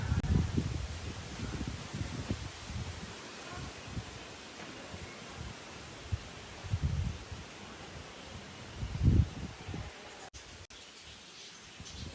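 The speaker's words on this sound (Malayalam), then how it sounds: "നല്ല കാറ്റുണ്ട്" Strong wind gusts buffet the microphone in repeated low rushes, with rustling between the gusts.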